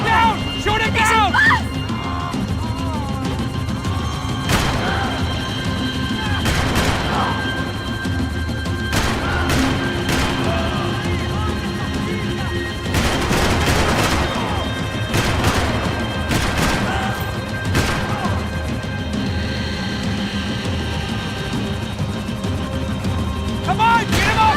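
Bursts of gunfire from Max Payne 3 rake a fleeing enemy, sharp repeated shots and crashing impacts in a loud, dense run under urgent shouted voices.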